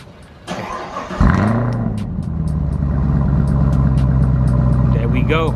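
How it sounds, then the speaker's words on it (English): A Camaro ZL1 1LE engine with stock muffler cranks, starts and revs, then settles into a loud, steady idle with a few sharp blips of the throttle near the end. "That's what it sound like without the muffler delete."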